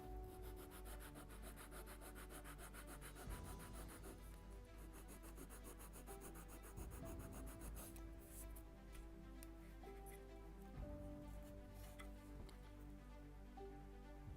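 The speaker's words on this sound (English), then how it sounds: "More to sand." Someone sands the first layer of wooden hull planking on a Mayflower (1620) scale model ship kit. Quiet rhythmic rubbing strokes repeat in steady back-and-forth bursts, close to the listener.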